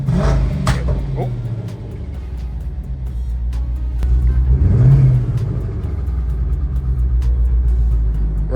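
A twin-turbo Ford Mustang engine held on two-step launch control, running rough with a misfire, gives a loud, close rumbling rev that swells around the middle and stays heavy to the end.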